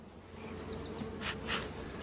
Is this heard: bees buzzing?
yes